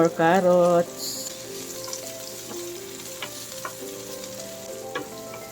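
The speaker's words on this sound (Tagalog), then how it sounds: "At isusunod natin ang carrots." Carrots stir-frying in a hot pan for pancit canton, a strong steady sizzle with stirring, loud and close, with a brief burst of tonal sound at the start before the frying settles under faint background music.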